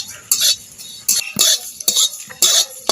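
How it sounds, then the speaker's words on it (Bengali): Whole spices for a mango pickle are dry-fried and stirred in a pan, heard as four or five sharp scraping sweeps of a spoon against the pan, each a short bright burst separated by near silence. "মশলাটা আমার ভাজা হয়ে গেছে"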